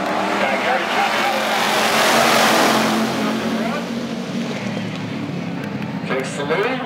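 Race cars battling on an oval racetrack: a loud, continuous roar of several engines passing, swelling and then easing slightly as the pack moves on, with an announcer talking over it.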